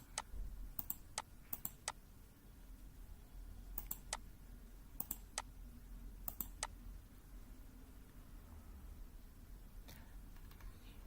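Quiet, crisp computer mouse clicks come in short pairs and small clusters at a desk, separated by near silence and faint room hum, with no talking.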